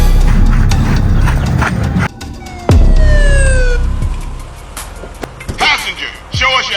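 A police car siren in GTA San Andreas wails in loud rising sweeps over rumbling engine noise and sharp bangs, with voices talking over the chaos.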